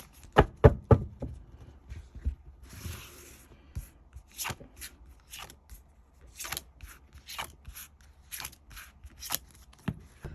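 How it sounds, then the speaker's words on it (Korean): Tarot cards being drawn and shuffled on a table, a run of crisp snapping and tapping card sounds at an uneven rhythm, close and fairly quiet, with no talking. "먼저 카드를 뽑아보고 더 이야기를 나눠보도록 하겠습니다"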